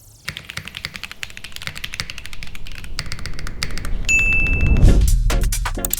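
Typing on a keyboard fitted with X-ray keycaps, a steady run of close, crisp key clacks building in density over several seconds, with a brief ding partway through and no voices.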